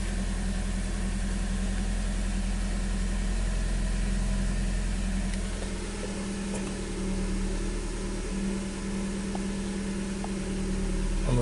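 A 2012 Nissan Versa engine idles steadily after start-up, fitted with a used throttle body and showing throttle sensor faults, giving a constant low hum with a slight shift in tone midway and a few faint clicks.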